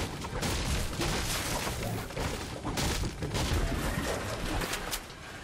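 Dense, continuous crackle of distant gunfire in Fortnite with muffled booms, sounding steady, like a prolonged exchange of shots far off.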